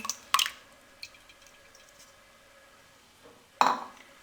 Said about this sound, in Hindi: मिक्सिंग बाउल में हम दही ऐड कर देंगे।